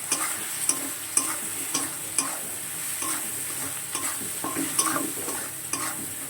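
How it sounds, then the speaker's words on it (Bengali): Spice paste of turmeric, chili powder and salt frying on low gas heat in a pan for paneer curry, a steady soft sizzle broken by regular scraping stirs of a spatula. "গ্যাসটা একদম কম করে দিয়ে আমি মশলাটা কষাবো"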